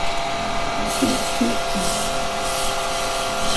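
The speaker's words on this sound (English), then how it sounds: "Right, a little bit of sanding." Abrasive paper rubs a smooth face on a turned wooden piece spinning on a lathe, giving a steady, close, broadband rushing hiss that starts abruptly and holds evenly to the end.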